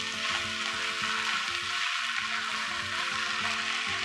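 Pork and Chinese cabbage noodle stir-fry sizzles steadily in a hot pan while being stirred, a dense continuous frying hiss with low clattering scrapes throughout, no talking.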